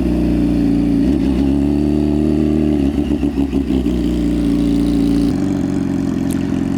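A motorcycle ridden by a learner practising throttle control runs at a close, steady idle with uneven small blips of throttle in the middle and a change in engine note near the end.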